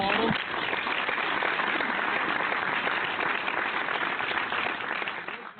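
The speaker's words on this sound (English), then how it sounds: "He deserves a round of applause" Listeners on a barber shop talk radio show give a round of applause. Dense, steady clapping holds through the clip, heard faint and muffled.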